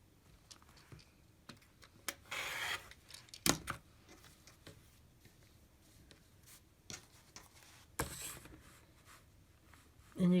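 Scissors cut through fabric to trim artist trading cards, with soft scattered snips and clicks plus a couple of brief louder rustles of cloth at a quiet close distance.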